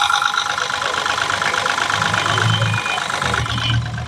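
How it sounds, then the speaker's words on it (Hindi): A Mahindra Bolero BS6 pickup's diesel engine idles steadily nearby with a rhythmic knocking rumble, loud and continuous, while the check engine light stays on. "तो इंजन चल के दिखाते हैं गाड़ी का।"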